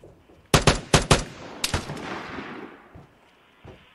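Gunfire in the video game Vigor: a burst of several loud, rapid shots, then a few more cracks and a fading echo, with scattered faint shots afterward.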